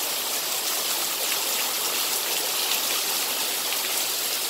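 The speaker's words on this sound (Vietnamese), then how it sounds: "Các bạn nhìn mưa thế này." Heavy rain pours off a metal sheet roof and overflows the gutter, a loud, constant rushing wash of water close by with no break and no talking.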